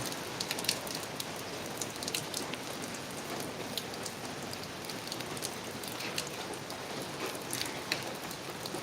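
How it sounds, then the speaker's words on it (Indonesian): Steady rain patters on a surface at a kitchen renovation site, an even hiss with scattered drips throughout, no voices. "hari udah hujan"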